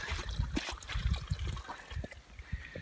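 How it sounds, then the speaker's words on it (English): Cold water running from a watering-hole pipe on a backpacking trail toward Mount Rogers in the Grayson Highlands, Virginia, a faint close trickle and splash with irregular gurgles and no talk. "Super cold water coming out of there."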